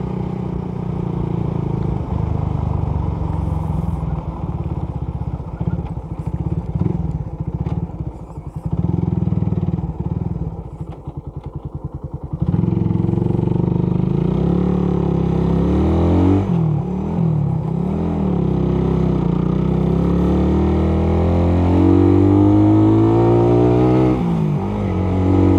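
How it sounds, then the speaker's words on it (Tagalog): A carbureted Suzuki Raider 150 motorcycle labors uphill on a night ride, its engine droning loudly and steadily, then rising in pitch as it strains under load, with some rattling clatter. "Hirap na hirap yung ating motor dito guys."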